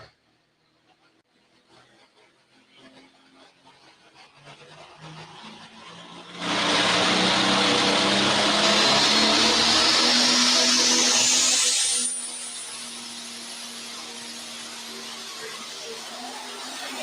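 Pulling tractor engine roaring during a smooth indoor sand-pit pulling run, a loud sustained wall of engine noise that swells in abruptly, holds steady with a rising whine, then drops to a lower continued rumble.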